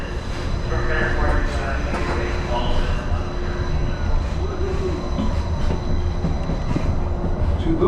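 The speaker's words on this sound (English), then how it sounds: "welcome aboard the Disneyland Monorail" Disneyland Monorail train running on its track, a steady rolling rumble with faint wheel squeal and whine, close and continuous, with a voice heard over it.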